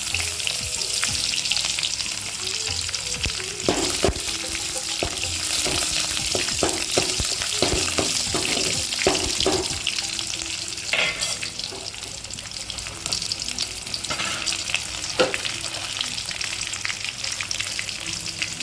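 Loud, continuous sizzling of onions and curry leaves frying in hot oil for an egg drop curry, with crackles and pops throughout and occasional stirring scrapes.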